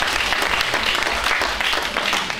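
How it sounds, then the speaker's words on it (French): Audience applauding during a French studio reading programme, a dense, even burst of many hands clapping close by, steady throughout with no voices over it. "On peut applaudir"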